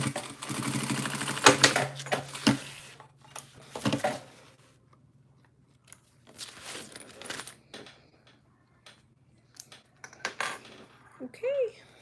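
A sewing machine stitches a pool bag in short bursts of mechanical whirring and clatter, with a motor hum early on and pauses filled by clicks and handling noises.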